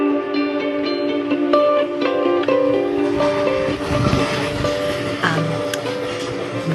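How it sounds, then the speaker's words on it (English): Interior of an Amtrak train running from Penn Station to Albany, with a steady rumble and hum filling the car and scattered clicks and rattles on top, continuous and fairly loud without speech. "Now on the Amtrak from Penn Station to Albany"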